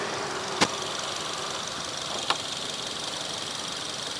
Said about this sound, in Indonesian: Seperti biasa saya akan cek suara mesinnya.